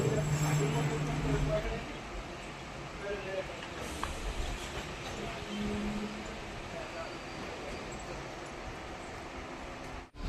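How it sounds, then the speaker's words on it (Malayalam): A DEMU train pulls out of a small station on the single-track Salem to Vriddhachalam line, its motor drone and wheel rumble steady and moderately loud from inside the coach, easing off just before the end. "നമ്മുടെ ട്രെയിൻ എങ്ങനെ ഇതാപ്പോൾ ഈ റെയിൽവേ സ്റ്റേഷനിൽ നിന്ന് വീണ്ടും പുറപ്പെട്ടിരിക്കുകയാണ്"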